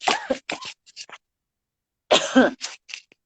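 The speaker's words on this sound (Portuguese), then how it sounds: "Desculpa, veio a tosse de novo." A person coughs twice in short bursts, close and clear, with a pause of silence between the pairs of harsh, throaty hacks.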